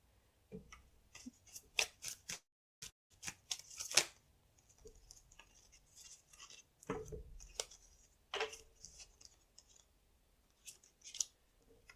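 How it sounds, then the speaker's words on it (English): Tarot cards are handled and shuffled nearby, with soft irregular snaps, flicks and riffles scattered across quiet pauses. "The Judgment flipped over, but I'm going to shuffle again."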